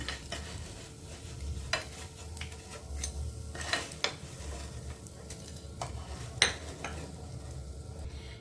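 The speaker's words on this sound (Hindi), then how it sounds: "इसी तरह से इसे दबाते जाएंगे और ये भूनता जाएगा, बहुत अच्छे से भून जाएंगे घी से" Edible gum (gond) roasts in ghee in a pan with a soft crackling sizzle, broken by scraping and pressing taps of a spoon against the metal. The sound stays close and fairly quiet.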